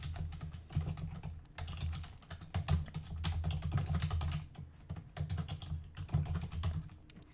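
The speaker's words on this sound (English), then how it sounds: "listen to the smooth sounds of clicking" Rapid computer keyboard typing fills the whole stretch, a close, dense patter of key clicks with short pauses between bursts and no speech.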